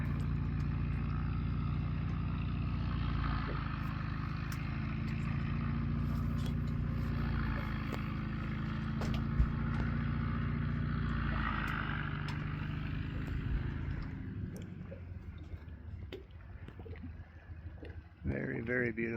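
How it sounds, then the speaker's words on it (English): An aircraft engine run-up before takeoff near Banks Lake, Washington, comes through as a steady, moderately distant engine drone that holds for a while and then fades away. "Sounds like he's just doing a run up before takeoff."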